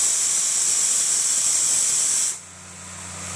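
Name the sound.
coconut and spices frying in a hot pan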